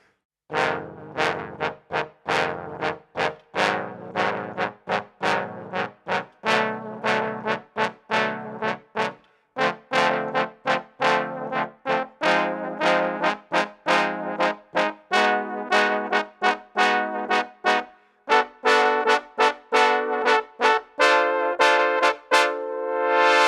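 Trombone section sounding a minor seventh chord voiced from the low register up through the high range, a long series of sustained brass chords stepping steadily upward in pitch, each attack clear and separated by brief gaps.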